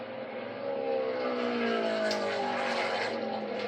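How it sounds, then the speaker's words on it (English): A race car laps the New Hampshire track during qualifying, its engine a steady high whine that rises slightly in pitch as it passes at a distance, with a commentator faintly underneath. "51 car out on the racetrack now."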